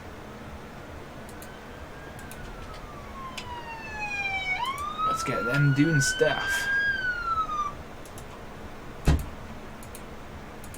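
An ambulance siren wails in the Emergency 4 video game, gliding up in a long rising tone, then wobbling and sweeping before fading, with a sharp thump near the end and a voice talking briefly under it.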